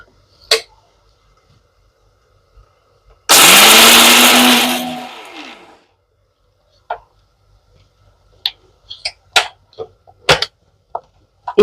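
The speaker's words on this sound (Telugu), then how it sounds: "ఇది మిక్సీ పడతాను ఇప్పుడు." Mixer grinder whirring loudly for about two seconds as it grinds cooled spice powder for a chicken fry, the motor note dropping as it spins down, followed by scattered light knocks and taps.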